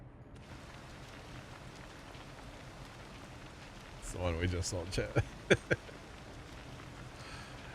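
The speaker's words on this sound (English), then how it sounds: "All right, let's just get out of the rain here." Steady rain pattering in the video game Farming Simulator 25, with game sound effects and a few sharp thuds. Someone talks over it.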